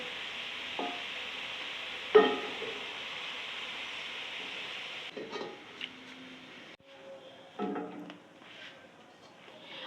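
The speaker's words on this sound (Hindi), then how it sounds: "और देखिए बस प्याज ब्राउन हो चुका है, अब मैं प्याज को निकाल लेती हूँ।" Browned onions are scooped out of hot oil while making degi chicken korma: a steady soft sizzle, a sharp metal clink, then quieter bubbling with scattered scraping and knocks from the spoon.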